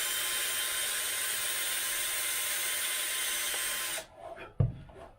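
A small drill fitted with a 1.5 mm bit whirs at a high steady pitch for about four seconds while building a Wingnut 850 model, then stops abruptly, followed by a few quiet handling knocks and a brief thud.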